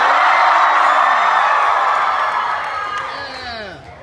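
A convention panel audience at Sakura-Con 2014 erupts in loud, sustained cheering and whooping that gradually fades toward the end.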